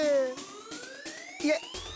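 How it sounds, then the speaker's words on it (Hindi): An ambulance siren wails, sweeping steadily upward in pitch, loud and close, with a brief clipped horn-like burst near the end. "एम्बुलेंस कहाँ से आ गया?"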